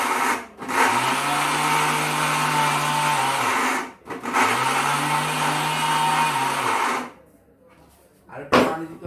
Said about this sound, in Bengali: আর এটা হলো 850 ওয়াট জাইপান ফ্যামিলি ম্যাটের একটা ব্লেন্ডার